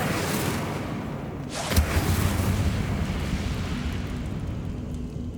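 An Incendio fire spell is cast in Hogwarts Legacy, sending out a sudden deep whooshing boom that settles into a sustained roaring rumble of flame, loud and close, with no voices.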